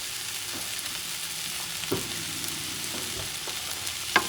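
Chicken fried rice sizzles in a pan over medium heat, a constant close hiss with a few soft scrapes and taps as it is stirred, and no talking.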